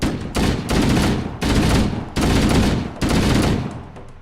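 Rapid automatic rifle fire from Halo: Combat Evolved, loud and close, in four sustained bursts separated by brief pauses.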